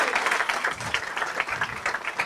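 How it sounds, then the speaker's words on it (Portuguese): An audience applauds the Brummers for providing lunch at a talk, a brief light round of clapping from a moderate crowd, fairly soft. "Palmas para o Brummers."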